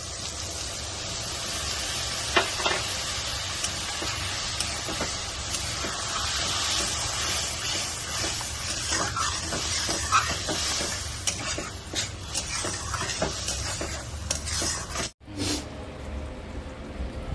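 Mustard and poppy seed paste sizzles in hot oil for a fish curry, a dense continuous hiss with stirring scrapes, close and steady, cut off abruptly near the end.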